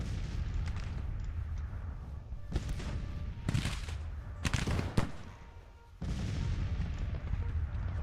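Artillery guns boom in the Grand Tactician battle game, a few sharp heavy reports spaced over a low continuous battle rumble, one loud cluster near the middle before the din resumes.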